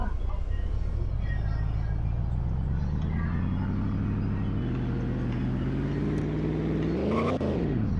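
In the Roblox game Greenville, a car engine revs up steadily over several seconds, its pitch climbing to a sharp peak before dropping away, loud and continuous throughout.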